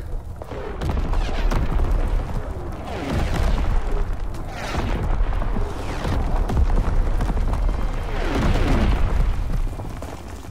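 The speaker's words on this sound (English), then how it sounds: "Incoming enemy artillery. Get to cover." Incoming artillery explosions in Call of Duty WW2, a dense, continuous run of booms and bursts with gunfire mixed in, loud and sustained throughout with several heavier blasts.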